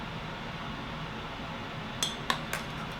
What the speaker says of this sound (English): Take the gravy, spoon it over.